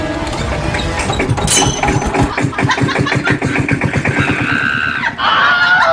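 An old vehicle's engine catches and runs after a push-start, a steady loud rhythmic chugging with mechanical rattle lasting several seconds before a brief dip and a rougher revving finish.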